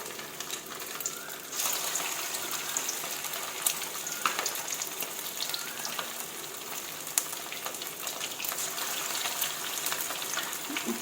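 Thai ground-pork balls frying in oil, a continuous close sizzle and crackle with scattered pops and no voices.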